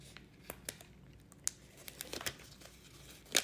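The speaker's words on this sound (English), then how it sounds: "What I do is I peel back the backing" The backing being peeled off sticker paper gives a series of faint, close crinkles and small crackling snaps, irregularly spaced and growing busier toward the end, with no one talking.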